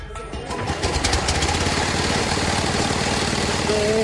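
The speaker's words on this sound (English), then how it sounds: "he has to pull it to start it like it's a lawnmower" A small pull-start engine, used for chopping or shredding coconuts in Sulawesi, runs at a steady, loud, buzzing idle, close up and continuous, with no voices.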